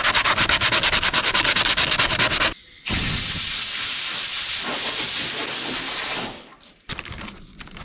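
Close, loud sanding roughs up a damaged car dashboard surface before filler. It starts with fast rhythmic back-and-forth strokes, breaks off briefly, then turns to a continuous harsh scrub that fades out with a few final scuffs.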